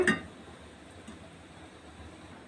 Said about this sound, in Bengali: ঢাকনাটা চাপিয়ে দেব